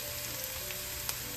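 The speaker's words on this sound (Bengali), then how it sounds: "এইবার রসুনটা একটুখানি ভাজা ভাজা হয়েছে, আমি এর মধ্যে দিয়ে দেবো একটা কারি পাতা" Garlic and curry leaves sizzle in hot oil in a pan while a mutton dish is being cooked, giving a steady, fairly quiet crackling hiss with a few small pops.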